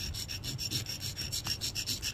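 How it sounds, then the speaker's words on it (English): Rapid rhythmic rasping strokes of a rock being rubbed back and forth on a wet sanding block, close up and steady, about a dozen strokes. "sand it down"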